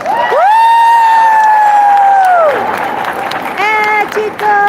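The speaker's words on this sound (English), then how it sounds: "So please give them a round of applause" An audience gives a loud round of applause and cheering for a few school staff members and four kids, with drawn-out whooping voices rising over the crowd noise.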